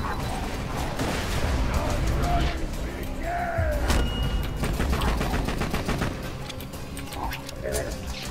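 Sustained rapid gunfire from a corrosive gun in Borderlands 2, a continuous stream of shots under frequent voices talking over the action.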